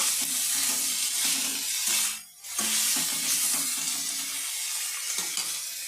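Broccoli frying in a pan, a continuous hiss and sizzle with faint stirring scrapes, close and steady apart from one brief dip in the middle, with no talking.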